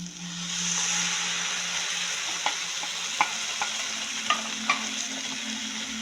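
Kolhapuri onion-garlic masala and vatan paste frying for sukkha mutton, a constant hiss of sizzling oil with scattered sharp spoon taps against the pan.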